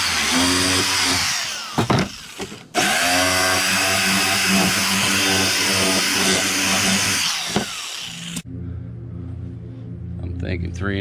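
Power tool cutting and trimming a cowl induction hood, a loud continuous whine with harmonic buzz running for about eight seconds, cutting out briefly near the two-second mark, then stopping; quieter handling sounds follow.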